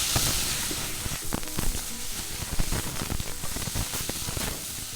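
Instant noodles with soya sauce stir-frying in a pan, a steady close hiss and sizzle broken by scraping and clattering from the stirring, with no talk.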